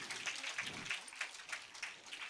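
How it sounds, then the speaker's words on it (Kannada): Steady applause from an audience at a tenth-anniversary concert celebration, honoring young performers; dense, continuous clapping with no voices over it. "ಅವರಿಗೆ ಮತ್ತೊಮ್ಮೆ ಜೋರಾದ ಚಪ್ಪಾಳೆಯೊಂದಿಗೆ ಪ್ರೋತ್ಸಾಹಿಸಬೇಕು"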